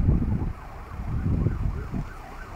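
Emergency vehicle sirens wail as fire trucks arrive at a fire near the Nuba club in Mamaia Nord, a loud, continuous rising and falling tone mixed with traffic rumble and wind.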